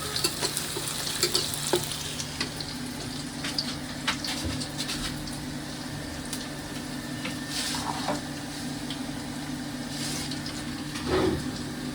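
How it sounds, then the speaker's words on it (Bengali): Onion frying until brown in a pan, a soft continuous sizzle with occasional stirring scrapes and light clatter, no one speaking. "পেঁয়াজটা ভেজে নেবো, বাদামি কালার করে ভেজে নেব।"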